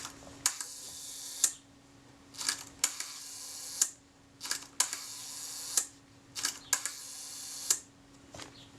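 A Retina I type 010 camera with a sticking door fires its shutter at 1 second: a sharp click opens and a second click closes, repeated about six times in close, even pairs.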